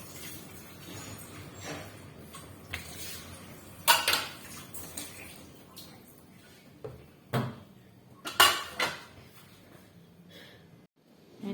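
Dishes, pots and pans being washed by hand, with scattered clanks and knocks of metal and crockery over a quiet background, a few sharper bangs spaced irregularly.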